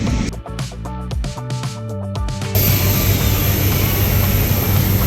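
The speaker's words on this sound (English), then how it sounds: "there's an Emirates 777 about to head off to Dubai" An Emirates Boeing 777 jet airliner, about to depart for Dubai, runs in the background at an airport apron. A loud, steady broadband jet roar swells in partway through and holds, following a stretch of whining, tonal machinery.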